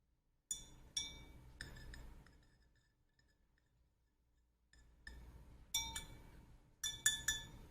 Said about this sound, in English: Take a teaspoon of salt and try mixing it in a glass of water.